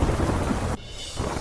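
Heavy rain with thunder during severe flooding in Bangladesh: a loud, dense roar of downpour and rumbling that briefly drops away midway, then swells back up.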